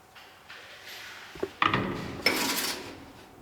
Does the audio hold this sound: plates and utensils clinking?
yes